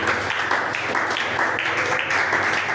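A church congregation at a French-language worship service applauds, a dense steady wash of clapping with some voices mixed in throughout.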